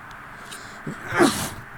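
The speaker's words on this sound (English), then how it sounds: "Was that a sneeze?" A single short sneeze bursts out near the end of a quiet moment in a cemetery, close and fairly sharp.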